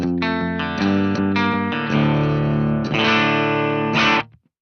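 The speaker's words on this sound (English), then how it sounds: "I like to run it just on the very edge of breakup, where it starts to distort as I pick in harder" Electric guitar played through a NuX Atlantic delay and reverb unit with the tone set at the very edge of breakup, giving a series of picked chords and notes that grit up slightly on harder attacks, then a final chord that rings out and cuts off.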